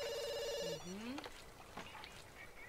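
Telephone ringing in The Sims 2, a short electronic ring that cuts off, followed by softer game effects, with someone talking quietly over it.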